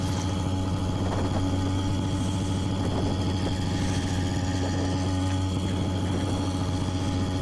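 A motorized bicycle's small engine runs steadily and loudly close by, a continuous buzzing drone with a constant tone and no talk over it.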